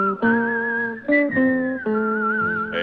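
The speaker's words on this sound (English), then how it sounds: "Whistle a tune that'll carry me to Tombstone" A melodic whistled tune from the theme song of the Tombstone Territory radio show, clear and close, carried in several sustained phrases with brief breaks between them.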